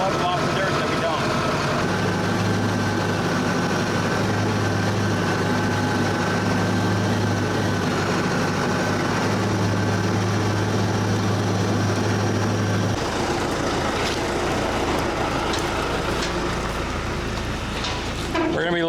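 A tractor with a dump trailer hitched behind runs at a steady drone, loading dirt for a culvert repair; the engine stays constant for most of the stretch and then drops away, leaving a rougher, quieter rumble near the end.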